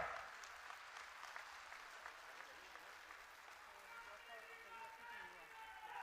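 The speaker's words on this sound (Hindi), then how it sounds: "भाई जोरदार तालियां" A rally crowd at a farmers' conference with the chief minister in Singhani, Loharu, Haryana, gives loud, sustained applause that holds steady for the full stretch, with voices mixed in under the clapping.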